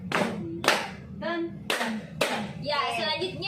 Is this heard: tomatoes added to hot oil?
no